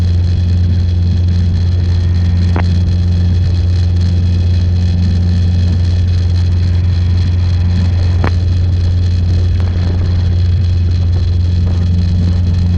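Robinson R22 helicopter heard from inside the cockpit in flight, a loud steady engine and rotor drone with strong low hum and constant tonal bands. It runs unbroken throughout with a few faint clicks and no talk.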